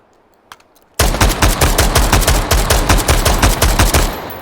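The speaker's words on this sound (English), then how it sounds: "And just shoot through the wall to bring that one down." In the VR shooter H3VR, a lone shot is followed by a loud, sustained burst of rapid automatic fire lasting about three seconds, fired through a wall at an enemy, then a short fading tail.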